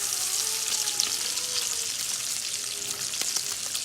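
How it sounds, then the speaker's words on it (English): Cabbage frying in bacon fat in a pan, a steady bright sizzle and crackle with occasional faint pops and stirring, close and continuous. "That's when you go fry the cabbage in it."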